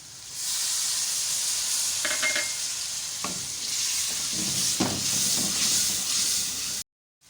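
Masala for aloo methi fries in a pan with a loud, continuous sizzle and hiss, broken by scraping stirs, until it cuts off abruptly near the end.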